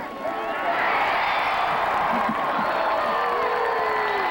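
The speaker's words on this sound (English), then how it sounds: "San Antonio fans applauding that, aren't they?" Fans at a 1991 WLAF football game between Birmingham and Raleigh Durham cheer and applaud in a continuous crowd roar that swells slightly, with an announcer speaking over it.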